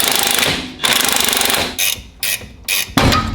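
Bolt securing the brake line holder on a Honda S2000 front suspension being loosened with a pneumatic impact tool, a loud buzzing rattle that comes in several short bursts with brief pauses between them.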